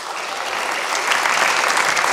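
An audience breaks into loud, dense applause that swells slightly midway, a thick sustained patter of many hands clapping close by with no voices on top.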